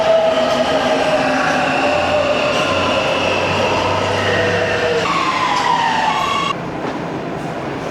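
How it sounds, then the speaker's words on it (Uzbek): A metro train pulls into a Warsaw underground station, its loud rumble joined by rising and falling electric motor whines and squealing wheels that build steadily, then drop slightly as it slows to a stop. "Hozir men bu metroni kutyapman, mana kelyapti."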